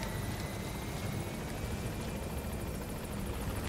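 A helicopter in Metal Gear Solid 5: The Phantom Pain gives off a steady, droning rotor and engine roar that holds at an even level throughout, with no voices over it.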